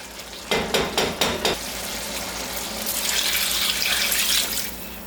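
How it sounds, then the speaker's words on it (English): Water pours steadily into a pot of curry cow heel, a brief run of clatter at the start giving way to a continuous gush that swells toward the end, loud and close with no talking. "more water going in there, and I'm going to put even more water"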